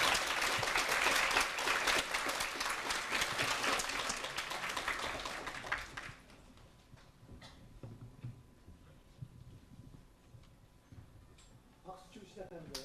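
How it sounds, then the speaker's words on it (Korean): Loud, dense audience applause welcomes industrial designer Kim Young-se of INNO Design at a youth talk concert, sustained for about six seconds before fading into a quieter room with scattered sounds. "여러분 큰 박수로 맞이해 주시기 바랍니다"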